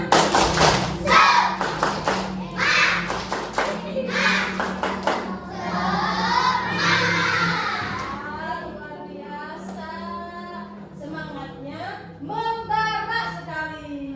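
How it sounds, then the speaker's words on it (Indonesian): A classroom of children performs a rhythmic spirit clap (tepuk semangat) in a patterned sequence of sharp group claps and thumps, with a teacher's voice and children's chanting mixed in before the clapping fades. "Tepuk semangat dulu."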